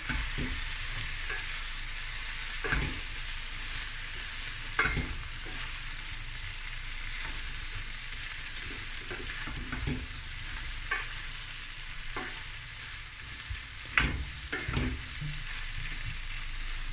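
Cooked lentils and prawns being stirred through a hot, sizzling pan, with a steady fry hiss under scattered scrapes and knocks of the spoon against the pan.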